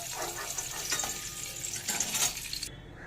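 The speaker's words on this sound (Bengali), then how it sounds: "এবার পটলগুলোকে একটু ভেজে নেব" Pointed gourd pieces fry in oil, a close, steady crackling sizzle with brief surges, cutting off abruptly at the end.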